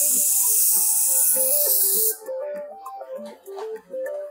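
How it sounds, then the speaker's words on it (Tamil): A bridal hairstyle gets a light mist of hair spray, a loud close hiss lasting about two seconds that cuts off abruptly, followed by soft tonal beeps in the background. "நான் கொஞ்சம் லைட்டாக ஹேர் ஸ்ப்ரே மட்டும் பண்ணிக்கிற போகிறேன்."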